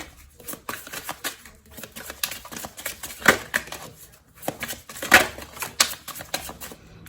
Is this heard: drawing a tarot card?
yes